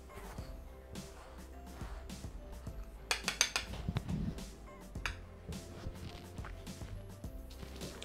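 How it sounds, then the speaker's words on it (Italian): Couscous is stirred with oil in a bowl, giving soft scraping and intermittent clinks of utensil against dish, with a quick cluster of brighter metallic taps midway; faint and close, with no voice. "Per prima cosa iniziamo a mescolare il couscous con l'olio."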